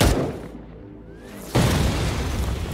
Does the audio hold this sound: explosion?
yes